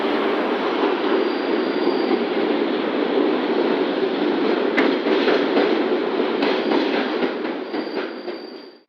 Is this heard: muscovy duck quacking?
no